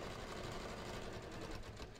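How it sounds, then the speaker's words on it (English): A sewing machine stitching fabric for a skort with pockets, a steady, continuous rapid mechanical whir that runs unbroken throughout at moderate volume. "now I'm just going to stitch this"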